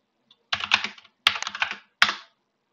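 Bursts of clicky keystrokes on a computer keyboard while entering a terminal command, three quick close clusters of taps with short pauses between them.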